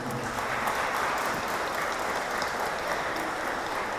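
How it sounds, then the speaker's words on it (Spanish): Steady applause from wedding guests at a church ceremony in San Agustín Oapan, a dense continuous clatter of many hands holding even volume throughout. "Vamos a darles un fuerte aplauso."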